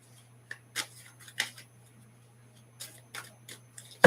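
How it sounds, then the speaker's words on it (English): A deck of divination cards is shuffled by hand, producing a series of close, crisp riffles and slaps in irregular bursts over a faint steady hum, ending on a sharper knock, with no voices. "Let me just shuffle up the cards."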